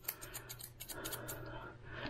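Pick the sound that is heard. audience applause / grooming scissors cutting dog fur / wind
grooming scissors cutting dog fur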